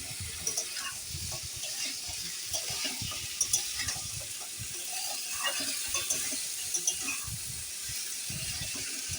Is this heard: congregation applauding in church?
no